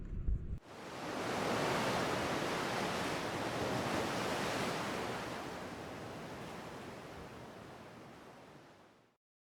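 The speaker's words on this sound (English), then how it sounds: "I'm going to go and spend more time on this marvellous beach." Waves on a Welsh beach give a broad, steady roar of surf that rises after a brief quieter start and holds loud and continuous before fading out.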